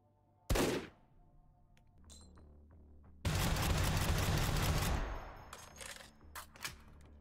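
Gunfire from a laser-sighted gun in the VR shooter Hot Dogs, Horseshoes and Hand Grenades: a sharp single shot, then after a pause a loud sustained burst of rapid fire, tapering into scattered echoing pops.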